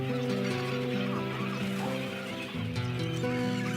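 Flocks of water birds gathering at newly flooded desert lakes in Australia, a dense continuous chorus of honking and clucking calls that overlap steadily throughout.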